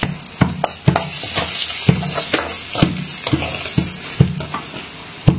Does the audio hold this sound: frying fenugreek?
yes